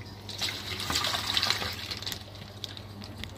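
Water splashes and trickles as a pufferfish is poured into a net, a close, continuous watery rush that peaks briefly and then settles into softer dripping.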